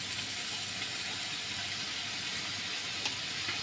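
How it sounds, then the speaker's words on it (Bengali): Chopped onions and sliced green chilies frying lightly in oil in a wok, giving a faint, steady sizzle with no voices. "প্রথমে আমি একটি কড়াইয়ে পরিমাণ মতো তেল, পেঁয়াজ কুচি, কাঁচামরিচ ফালি দিয়ে একটু হালকা ভেজে নেব"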